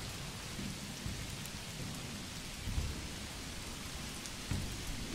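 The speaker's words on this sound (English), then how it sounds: "That's a storm." Steady rain and rumbling thunder from a thunderstorm in the medieval city-building game Manor Lords, a continuous wash of rainfall with two low thunder rolls rising briefly out of it.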